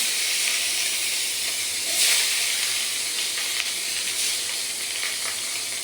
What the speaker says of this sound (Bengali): মাছটা প্রথমে ভেজে নিলাম।